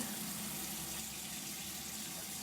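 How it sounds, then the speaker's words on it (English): Water runs steadily from a tap in a home, a continuous soft hiss of flow without pause, quiet and close, with no voices. "I just turned the water on."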